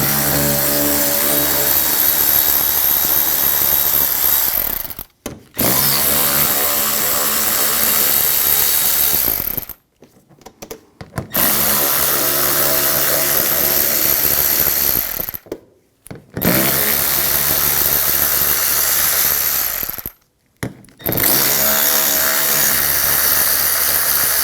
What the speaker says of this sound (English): On the inner fender well, we're going to take these screws out and use a 7mm socket